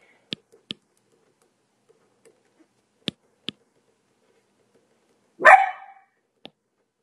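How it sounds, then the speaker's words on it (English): A single sharp bark from a dog outdoors, distant and brief, stands out against near silence, with faint ticks and clicks scattered before it. "My dog is outside growling at stuff."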